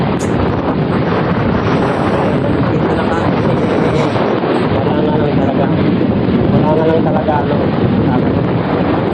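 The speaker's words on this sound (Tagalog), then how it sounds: "malamig na malakas ang hangin" Strong, cold wind blasts the microphone on Bagasbas beach in Camarines Norte, a constant heavy roar mixed with surf, while people talk over it.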